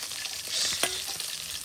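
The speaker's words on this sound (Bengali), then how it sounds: "বন্ধুরা এই আমাদের শৈল মাছ ভাজা হয়ে গেছে," Shol snakehead fish frying in oil, a short burst of close, steady crackling sizzle with a few sharper pops and faint stirring.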